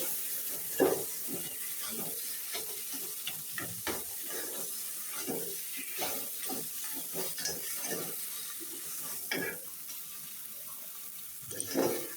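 Crushed garlic stirred into fish-head taro greens in a hot pan, a steady soft sizzle broken by repeated scraping and clattering strokes of a spoon with no talking.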